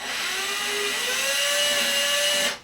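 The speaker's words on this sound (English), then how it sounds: "I can take my drill bit and I can drill straight through down into that pine" A power drill with a sharp bit bores straight down into pine wood, a loud, close, steady high whine lasting a couple of seconds before cutting off.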